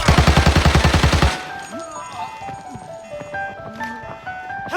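A burst of rapid UMP-45 submachine gun fire in the Arena Breakout shooter game at a warehouse, loud and close for about a second, then game ambience with faint tones and scattered clicks.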